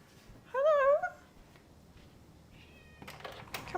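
A cat meows outside, one clear rising-falling call followed later by a fainter short mew, before some muffled rustling noise.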